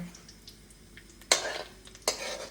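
Whole spices for a Punjabi chicken curry (cumin, dried red chillies, cinnamon, green cardamom, cloves, bay leaf) are stirred in a pan, with quiet scraping and two sharp clinks of a utensil against the metal near the end.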